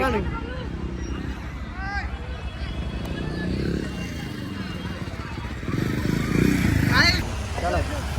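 Steady low engine rumble of three motorcycles riding through a crowded area, with crowd chatter and horns mixed in, swelling louder near the end.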